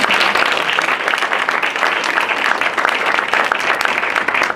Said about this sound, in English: So one more round of applause for everyone.